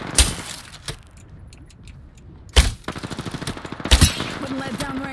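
Gunfire in the battle royale shooter Apex Legends: a few sharp single shots followed by a rapid automatic burst, loud and close, with game sound effects between volleys.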